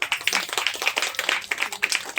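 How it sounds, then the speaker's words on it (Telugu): A brief burst of brisk clapping from a small audience at a talk, fast, uneven and close. "ఇడిగా చప్పట్లు కొడదామండి ఆయన"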